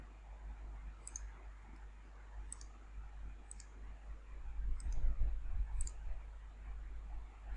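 Five crisp computer mouse clicks spaced roughly a second apart, quiet and close against a faint low hum, with no speech.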